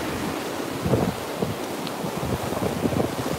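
Ocean surf rolls onto a beach shoreline ahead of Hurricane Dorian, a steady washing roar of waves mixed with gusty wind buffeting the microphone, with no voices.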